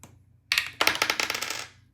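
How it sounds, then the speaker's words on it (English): Dice tumble down a board game dice tower, a quick series of close, bright rattling clicks and clatters that bursts in, briefly pauses, then continues in a rapid patter before dying away. "except my dice went behind the dice tower."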